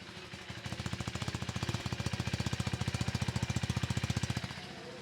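A 2025 KTM ADV 390X motorcycle engine idles with a steady, rapid, bassy low thumping pulse, loud and close, then drops off near the end.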